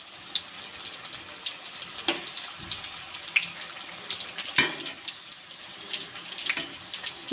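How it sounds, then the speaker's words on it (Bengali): Vegetable spring rolls deep-fry in hot oil with a steady, hissing sizzle and scattered crackles and pops, heard near and alone without talk. "উল্টে পাল্টে খুব ভালো করে ডিপ ফ্রাই করে নেব।"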